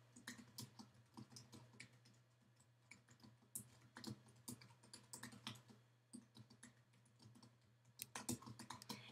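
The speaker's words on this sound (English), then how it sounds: "Now, as I start typing," Irregular bursts of key clicks from typing a message on a computer keyboard, quiet and close, with short pauses between flurries over a faint steady hum.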